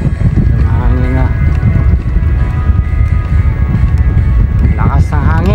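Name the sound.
strong wind blowing on island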